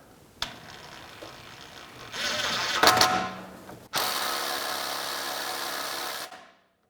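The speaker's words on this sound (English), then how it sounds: "taking a drill with an Allen key attached to the end of it, and we're going to just run this in there" A power drill fitted with an Allen key bit whirs in bursts as it works a stripped screw out of a BMW brake rotor, starting and stopping, then holding a steady loud run for a few seconds before cutting off.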